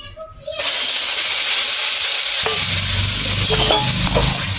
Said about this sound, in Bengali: ওই ডাল বাঁধাকপিটা পেস্ট করা দিয়ে দেবো।